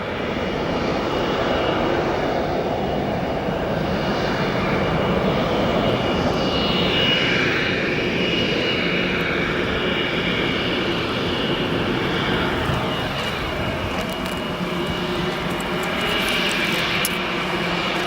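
Airplanes at O'Hare Airport roar in a continuous, loud engine rumble through a busy sunset, a broad steady wash of jet noise with a slow rising and falling whine as aircraft pass.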